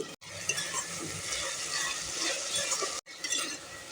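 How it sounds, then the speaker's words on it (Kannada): Tomatoes fry in oil with salt and mint for tomato rice, a steady close sizzle that is briefly interrupted twice, with faint stirring clinks and no talk. "ಎಣ್ಣೆಯಲ್ಲಿ ಚೆನ್ನಾಗಿ ಫ್ರೈ ಮಾಡ್ಕೋತಾ ಇದ್ದೀನಿ."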